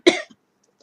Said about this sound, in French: Si je passe 10 minutes à tousser